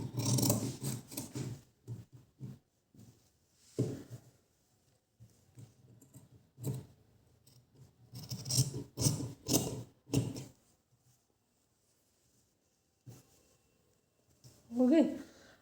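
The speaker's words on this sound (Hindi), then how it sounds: "अब हम इसकी कटिंग कर लेंगे।" Scissors snip through blouse fabric during tailoring, giving short bursts of crisp cutting and rasping strokes that come and go, with a person speaking between and over them.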